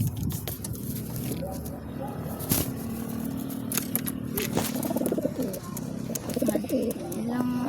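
Pigeons cooing at close range in a backyard loft, a steady low murmur of coos running through the whole stretch with some rustling and brief clatter mixed in.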